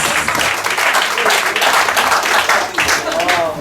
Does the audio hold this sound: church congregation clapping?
yes